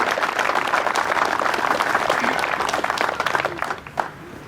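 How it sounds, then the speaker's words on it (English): An audience at a charity opening ceremony claps, producing dense, sustained applause that tapers off near the end, with some faint voices mixed in. "One more time, Miss Wendy, clap for her, y'all."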